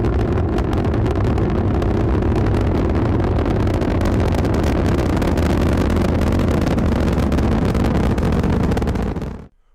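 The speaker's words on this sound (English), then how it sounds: "All engine running. Liftoff. We have a liftoff." A rocket's engines roar at liftoff, a dense, loud, continuous rumble that holds steady for about nine seconds before cutting off abruptly.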